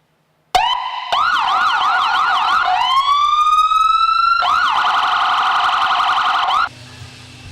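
A loud ambulance siren cycles through wailing and yelping patterns, steady and close, then cuts off abruptly near the end.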